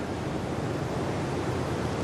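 Ocean surf at Bells Beach during a pro surfing contest, a steady broadband wash of breaking waves with wind, continuous and fairly loud, with no voices.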